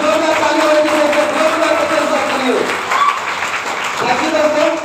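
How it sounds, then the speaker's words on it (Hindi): Audience clapping at a business plan meeting, moderately loud and steady throughout, with a voice speaking over the applause. "हमारे ग्रेट गुरु सबका जोरदार तालियां हो रही है"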